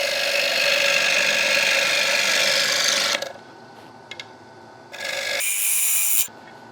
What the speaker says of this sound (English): 16mm gouge.